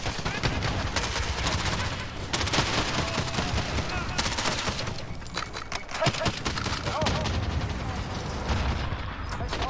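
Rapid bursts of automatic gunfire and explosions from a Call of Duty Modern Warfare multiplayer match, loud and continuous throughout with dense overlapping shots and faint game voices underneath.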